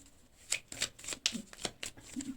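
A deck of fortune-telling cards shuffled in quick, crisp riffles, with repeated short bursts of card flutter close to the mic and no one speaking.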